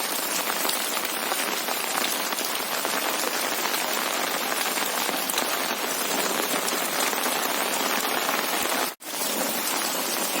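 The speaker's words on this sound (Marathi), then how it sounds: "पावसाचा पाऊस भरपूर आहे" Steady, dense downpour hissing loudly on surfaces in Naigaon, Vasai, unbroken except for a momentary dropout near the end.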